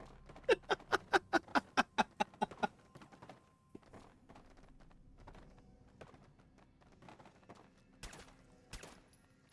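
Gunfire in the Fallout 4 video game as a box is shot: a quick, evenly spaced run of about ten loud shots, then scattered softer clicks and thuds at a quieter level.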